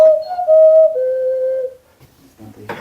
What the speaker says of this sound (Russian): мы не удержались и решили купить себе свисток